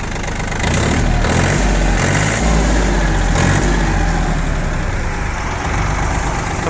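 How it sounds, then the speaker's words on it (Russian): Close, loud diesel engine of a Yanmar F195 tractor chugging steadily, then revved a little with a rising throb that holds at the higher speed. "Можно, естественно, дать ему немного оборотов и услышать, что работа не изменится."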